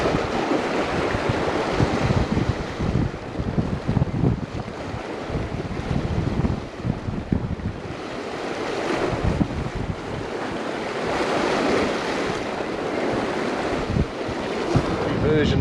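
Strong wind buffets the microphone over steady crashing surf on a rocky coast at Cape Keraudren, a loud continuous roar with gusts rising and falling throughout.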